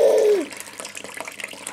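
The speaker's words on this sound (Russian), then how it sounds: "Смотри, как водичка течет." Water in an outdoor fountain flows with a soft, steady hiss. A brief rising tonal sound comes first, then the faint, even rush continues.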